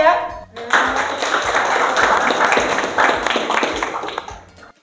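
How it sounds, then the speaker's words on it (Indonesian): A classroom claps for a student group after their presentation, a few seconds of loud, close, dense clapping that fades out, with voices speaking around it. "Tepuk tangan ya."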